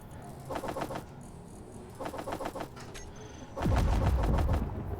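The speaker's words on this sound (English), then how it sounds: "Why did I just hear an explosion?" A nearby explosion in the space survival game Space Engineers sets off at about 3.7 seconds as a loud, sustained low rumble. It follows several quieter bursts of rapid crackling pops, and no one speaks.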